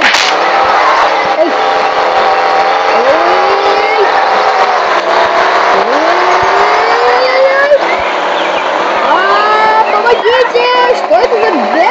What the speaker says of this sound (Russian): Что это за бешеная машинка?